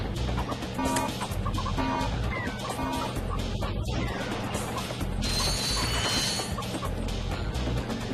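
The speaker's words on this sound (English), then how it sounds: "Fear my chicken gun!" A chicken gun in the Ratchet & Clank video game sends out a dense burst of clucking chickens amid a loud, busy wash of game effects and crashes, steady throughout with no talking.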